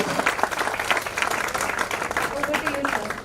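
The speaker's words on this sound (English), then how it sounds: "So a huge round of applause for his session, guys." A crowd claps for a speaker at a cloud technology community conference. The brief burst of applause is steady and fairly close, filling the whole moment.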